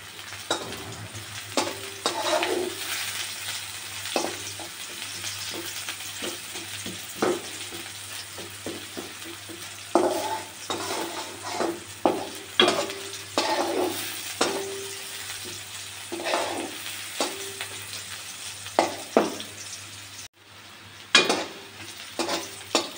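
Onions fry in oil in a pan for a thin prawn curry, stirred again and again. A steady sizzle runs under repeated scraping strokes of a utensil, with brief clinks in between.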